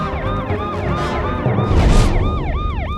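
An ambulance siren in a Tamil movie scene wails continuously in a loud, rising and falling pattern over rumbling street noise.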